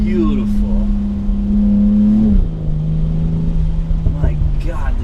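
A 2019 BMW X3 M40i SUV engine drones at a steady pitch while driving on a wet road in the rain, then shifts to a lower tone. A voice comes in briefly near the end over the road noise.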